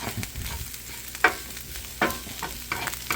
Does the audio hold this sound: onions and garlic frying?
yes